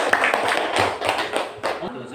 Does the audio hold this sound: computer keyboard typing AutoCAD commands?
no